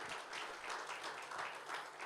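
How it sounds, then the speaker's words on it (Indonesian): A church congregation applauds during a Sunday worship service, a steady wash of many hands clapping together that sounds fairly distant and quiet and continues without a break. "Bisa kasih tepuk tangan buat Tuhan."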